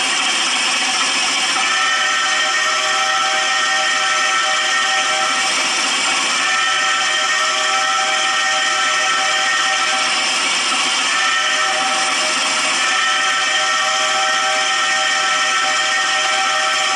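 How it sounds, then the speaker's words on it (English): A loud, sustained Baldwin steam locomotive whistle blows continuously while the train waits, its harmonic tone swelling and dipping slightly over a long stretch, with hissy steam underneath. "You can blow a whistle while the train is waiting"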